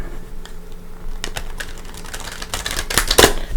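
Deck of Psychic Tarot cards shuffled by hand up close, a run of soft riffling and flicking bursts that gather into a louder, denser flurry near the end.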